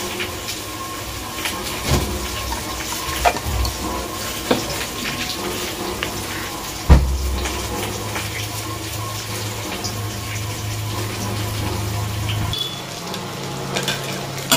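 Food fries in oil in a wok, a continuous crackling sizzle broken by scattered clicks and sharp stirring knocks, over a low steady hum that drops away near the end.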